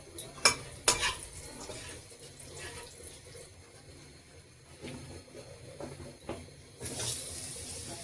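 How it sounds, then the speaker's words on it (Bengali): Cumin seeds, dried chili and a bay leaf sputter in hot oil with a steady low sizzle. Close spoon scrapes and clinks sound over it, and a brief watery splash rises toward the end. "এবার দিয়ে দিলাম জিরা ফোড়ন শুকনো লঙ্কা একটা তেজপাতা"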